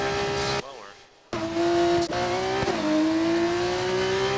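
An F2 race car at full throttle around Silverstone in a racing game, its engine a steady high whine climbing in pitch, briefly cutting out before surging back loud and close.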